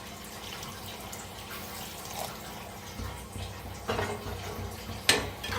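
Water poured into a pan of masoor lentils and onions, a soft splashing pour that grows in the second half with a few brief louder splashes, close by and with no talk.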